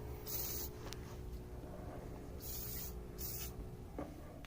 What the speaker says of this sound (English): just a little spray on each of them